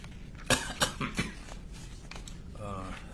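Three sharp coughs in quick succession during courtroom witness testimony, close and fairly loud, followed by quieter background murmuring.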